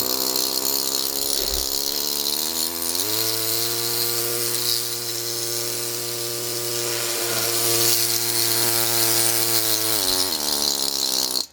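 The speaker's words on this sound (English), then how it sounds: "I get this small area with my air scribe" A pneumatic air scribe works the matrix off a fossil needle fish with a loud, continuous close-up buzz and rattle that hums on for most of the stretch before cutting off.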